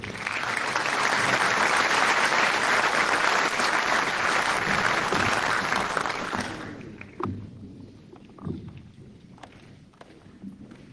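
Audience at a Latin American geopolitics forum applauding Peru's defence minister, loud dense clapping for several seconds that stops abruptly, leaving a few scattered claps and room noise.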